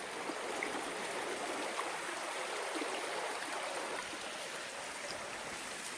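A mountain river in the Carpathians flows steadily past an old village house, a continuous broadband rush of water that stays close and even for the whole stretch, with no voices over it.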